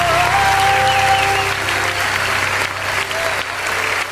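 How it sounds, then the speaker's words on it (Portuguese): Congregation in a church worship service clapping loudly and continuously, a thick roar of hands with faint voices and a lingering musical tone underneath. "as palmas engrandecem o nome de Jesus"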